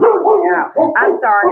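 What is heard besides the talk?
dog barking in the background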